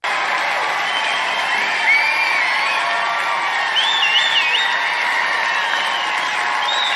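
A large crowd at a CPAC political event cheers and applauds continuously, a dense roar with scattered whoops and whistles rising above it, loud and sustained from start to finish.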